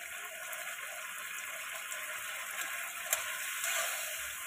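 Chilli soya sautéing in a pan with salt, turmeric and black pepper, giving a steady close sizzle with faint scraping stirs and one sharp clink, no talking.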